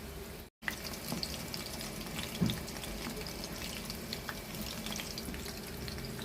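Chicken lollipops fry gently in a shallow layer of oil over a low flame, giving a steady, soft crackling sizzle with a few small pops, close by and without talk.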